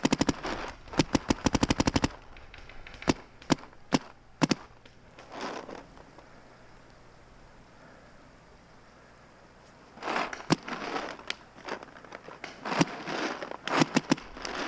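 Dye M2 paintball marker firing in the snow during a game: rapid bursts of sharp snapping shots at the start, scattered single shots, a quiet stretch, then more fast volleys near the end, close and loud.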